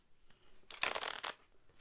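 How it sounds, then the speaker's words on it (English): Tarot cards are shuffled in one brisk, riffling burst lasting about half a second, close and fairly loud with quiet room tone before and after. "one more good shuffle."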